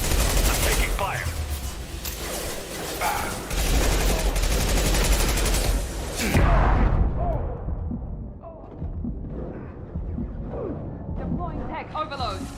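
Sustained bursts of rapid gunfire and heavy impacts in a Mass Effect 2 firefight as enemy troops are offloaded, loud and dense throughout, with a voice speaking briefly over the shooting.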